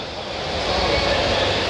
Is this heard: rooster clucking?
no